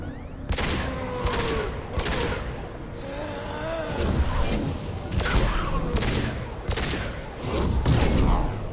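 Heavy pistol shots in Mass Effect 2, about eight loud, sharp reports. They come in uneven bursts roughly half a second to a second apart, with a brief lull near the middle and a rumbling battle backdrop.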